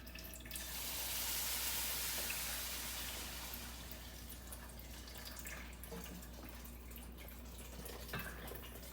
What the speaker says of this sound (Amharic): ውሃ እናደርጋለን። የፈላ ውሃ